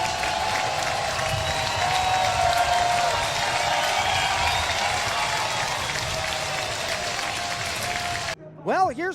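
Baseball stadium crowd roaring and clapping after a home run in a minor league game in Knoxville, a loud sustained wash of cheers and applause, then an abrupt cut to a different sound at the end.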